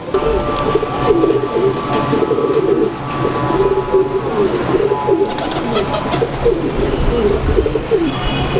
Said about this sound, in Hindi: मेरा जुर्रा कबूतर है जी।